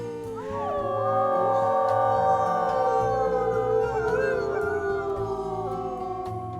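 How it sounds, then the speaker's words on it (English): A wolf howl in the video game WolfQuest, several layered gliding howls from a pack rising and overlapping over a low game music bed, loud and sustained for most of the stretch. "Let's go ahead and do a howl now that we're back."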